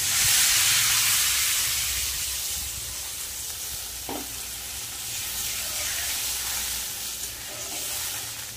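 A soybean fritter curry simmers and bubbles in a pan, giving a steady soft sizzling hiss with a brief clink partway through, fairly faint and without talking.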